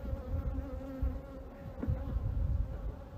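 Honeybees hum and drone around frames pulled from a hive during an inspection, a close, steady buzzing swarm with wavering pitch and occasional louder passes near the listener.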